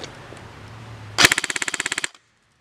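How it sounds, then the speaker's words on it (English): A stock KWA Kr12 airsoft rifle fires a short full-auto burst: a sharp initial crack followed by about a dozen rapid, evenly spaced loud pops, close by, ending abruptly into silence after a faint mechanical hum beforehand. "We'll do a short burst of full auto and you can see the fire rate."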